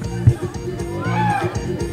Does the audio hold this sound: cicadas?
no